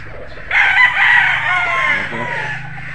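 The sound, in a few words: Golden Boy Sweater gamecock rooster crowing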